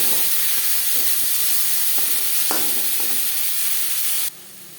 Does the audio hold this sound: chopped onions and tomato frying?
yes